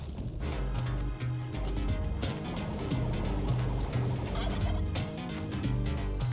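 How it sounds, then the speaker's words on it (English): Turkeys gobbling in the game Spelunky 2, a dense run of repeated gobbles layered over game music and effects, loud and steady throughout with no talk. "Okay, we got two turkeys here."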